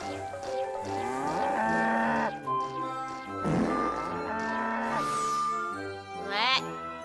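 A cartoon cow moos in a long, wavering low bellow that bends and swoops in pitch, set amid music with sustained tones and a bright jingling chime near the end.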